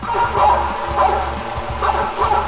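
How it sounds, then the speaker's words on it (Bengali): A dog barking loudly and repeatedly through a drone-mounted speaker used to scare off bears, the yips and woofs coming in quick bursts with a slightly tinny, amplified tone. "সেই স্পিকারে উচ্চ শব্দে বাজানো হচ্ছে কুকুরের ডাক"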